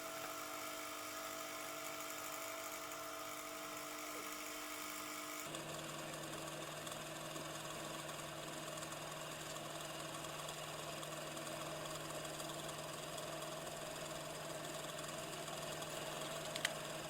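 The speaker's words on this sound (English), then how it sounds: "Here I shall cut a hole of 8 mm." A machine cuts an 8 mm hole in a wooden block to fit a dowel, giving a steady, close mechanical whine and hum that shifts to a lower, fuller drone partway through and then runs on evenly.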